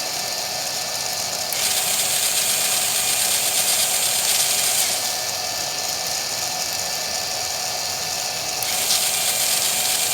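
A small DC motor switched on and off by a limit switch in a relay ladder logic setup: a steady high mechanical whir that shifts in pitch and level as the motor alternates, with distinct changes at a few points.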